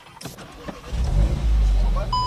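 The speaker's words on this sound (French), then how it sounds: "quand tu démarres dans la voiture" A Volkswagen Golf engine starting from inside the car: a few clicks, then the starter catches and the engine settles into a loud, steady low idle, ending with a short electronic chime.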